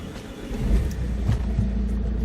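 A Saab car engine runs roughly after starting, a low, uneven, tractor-like rumble that stays steady and close throughout.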